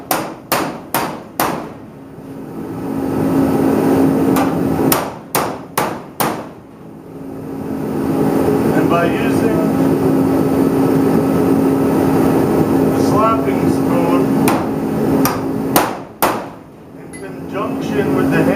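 A hammer strikes metal on a 1978 Dodge Power Wagon W100, sharp ringing blows in quick bursts of three to four, separated by stretches of steady mechanical background and faint talk.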